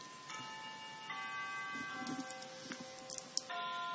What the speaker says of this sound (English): All kinds of bells right now.